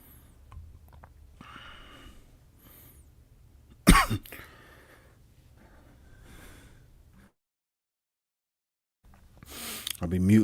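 A man on a live stream coughs once sharply and loudly, with quieter breathing, sniffs and throat noises around it, a stretch of silence, then another burst of noise at the end.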